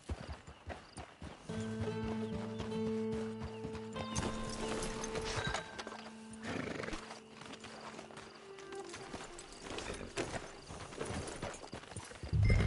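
Hooves clip-clop at a steady walking pace and a horse whinnies in a PS4 video game, sounding over a bed of game music and ambience and ending in a louder burst.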